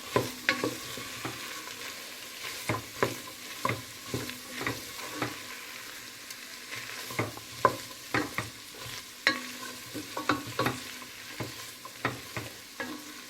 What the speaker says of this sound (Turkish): Nohutlarımı da iyice hepsiyle birlikte karıştırıyorum.